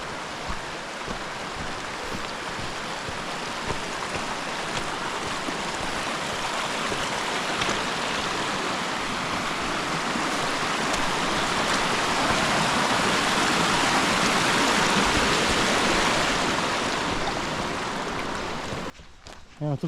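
The Beli potok mountain stream flows in a constant broad rush of water, loud and near, swelling slightly before cutting off abruptly near the end.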